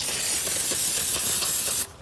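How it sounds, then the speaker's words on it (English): A steady, loud aerosol spray of brake cleaner onto a brake rotor of a 2002-2007 Jeep Liberty hisses close up for almost two seconds, then cuts off abruptly. "We'll take a little brake clean, spray it down,"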